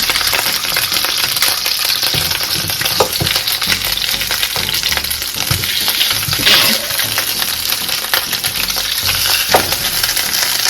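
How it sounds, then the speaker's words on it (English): Turkey wings sizzle loudly and continuously in a hot pan, with scattered crackles, pops and occasional scraping as the pieces are turned over. "Okay, the turkey wings are ready to get turned over."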